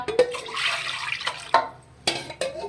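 Water in which mangoes were boiled being poured for aam panna, a splashing, gurgling pour in short bursts, close and moderately loud.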